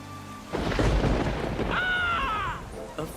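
Thunder rumbles as a river threatens to flood in an animated fantasy adventure, a sudden deep roaring crash that swells and rolls for a couple of seconds, with a faint whistling tone layered over the tail.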